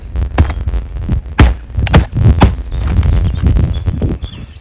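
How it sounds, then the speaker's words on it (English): Nails hammered into roofing shingles during a shingle repair: a loud, close series of irregular dull thuds and knocks, several per second in bursts, with no talking. "I nail about an inch from the end"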